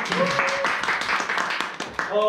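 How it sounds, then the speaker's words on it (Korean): A crowd claps in a dense patter of applause at a business presentation in Busan, while a voice speaks over it, briefly at the start and again at the end. "박수 한번 주세요"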